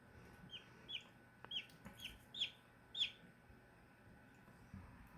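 Young chicks cheep at a farm in a string of high, thin peeps, about seven quick calls spaced across the first few seconds, close and clear over a quiet background, then silence.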